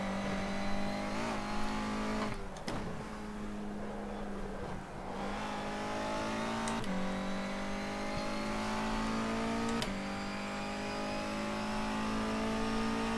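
Honda Civic race car in rFactor 2 at Silverstone, engine revving loudly and steadily through gear changes, pitch climbing and dropping with each shift, close and continuous without talk.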